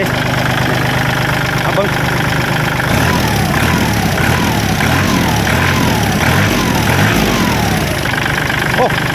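A tractor's diesel engine idles nearby with a steady, rough low chug, joined partway through by a repeating knocking rhythm, loud and continuous.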